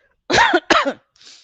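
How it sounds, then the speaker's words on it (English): Two quick, harsh coughs from a person close by, followed by a short breathy exhale. "excuse me, I got a cough."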